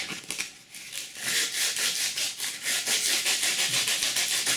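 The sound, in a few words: sandpaper sanding wooden Native American flute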